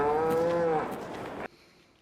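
Cows on a farm in Farming Simulator 22 give a single long, loud, close moo that tails off and cuts out abruptly, leaving a quiet background with no talking.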